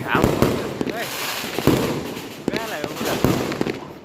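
Firecrackers bursting in a dense run of sharp cracks and pops, several distinct loud bangs among a steady crackle, with people talking and shouting over it.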